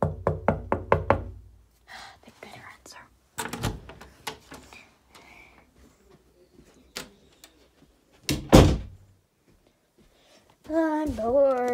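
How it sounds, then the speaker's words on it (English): Knocking on a house door at nighttime, a rapid series of sharp raps at the start and further loud knocks later, with someone speaking and other voices between them. "Oh, what kind of knock is that?"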